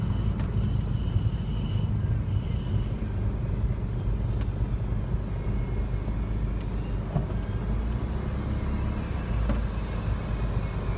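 Retired London taxi cruising along the Sussex coast, a steady low engine drone and road rumble from inside the cab, continuous and fairly loud with no talk.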